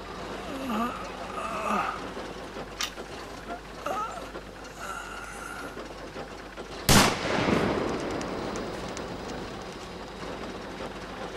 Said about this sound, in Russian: Кто стрелял?